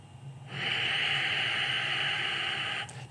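A long, steady exhale through the nose with the mouth closed. It comes as a close, airy hiss that starts abruptly, holds evenly for about two seconds and stops, with no talking.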